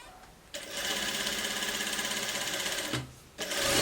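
A sewing machine stitches a side seam on a social-style shirt in one steady, close run of rapid needle chatter, then pauses briefly before starting again.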